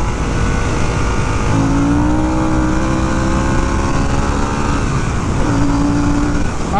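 A 2022 Harley-Davidson Sportster S pulling hard in first gear, with a loud, close engine roar and a rising tone that climbs twice, heavy wind rumble behind it and no talk.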